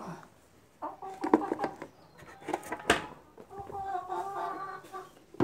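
Chickens cluck and squawk in short bursts nearby, with a sharp clatter midway and some background rustling.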